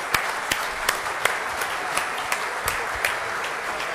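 An audience applauds a guest speaker, the Minister of Economy and Finance, at a conference: a fairly loud, even wash of many clapping hands with a few sharper individual claps standing out at regular intervals.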